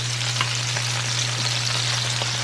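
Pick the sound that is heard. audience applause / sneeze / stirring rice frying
stirring rice frying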